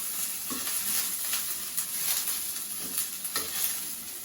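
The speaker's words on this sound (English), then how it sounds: "Can you hear the sizzle" Food sizzles and crackles in a hot pan, a steady frying hiss with occasional scraping stirs and pops.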